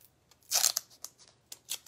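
Adhesive tape is pulled off a roll and torn, a close crackling rip followed by a few short tearing bursts, with no talk.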